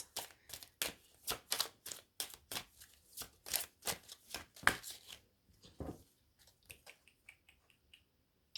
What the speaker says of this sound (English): I'm gonna put them back and shuffle some more